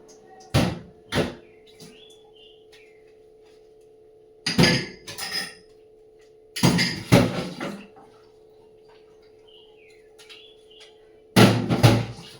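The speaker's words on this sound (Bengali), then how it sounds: "এখন সেই বাসন টাসন সব ধোবো ধুয়ে টুয়ে" Dishes, pots and utensils being handled in a home kitchen, with separate bursts of clattering metal and knocking crockery spaced several seconds apart against a steady low background hum.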